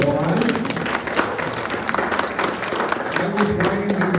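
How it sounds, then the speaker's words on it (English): Audience at a county clerk debate applauds the timekeeper, steady clapping from a modest crowd with voices mixed in throughout. "Let's give our timekeeper a round of applause"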